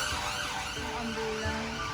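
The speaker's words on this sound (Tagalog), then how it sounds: "Ambulansya dumaan." An ambulance siren wails as it passes along a street, a loud continuous rising and falling tone over traffic noise.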